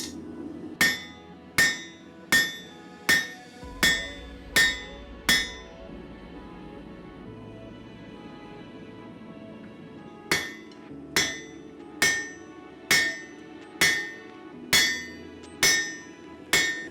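Hammer forging hot steel into a belt buckle on an anvil: sharp ringing strikes in a steady rhythm, a quick run of seven, a pause with a low rumble, then another run of about nine blows, close and loud.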